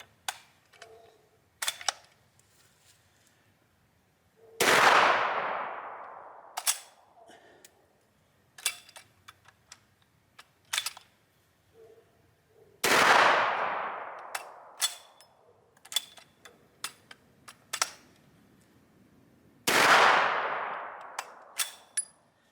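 A Swiss Vetterli bolt-action rifle loaded with .41 Swiss rimfire fires three loud shots that ring out with long, echoing decays, separated by metallic clicks of the bolt being worked.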